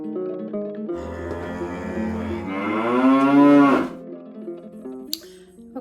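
A cow on a farm gives a long, drawn-out moo that swells and rises in pitch before cutting off, close and loud, with a softer low call and quiet background afterward.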